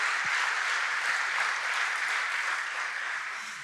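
Steady, sustained applause from a church congregation, loud and dense throughout, fading slightly at the end with no talking over it.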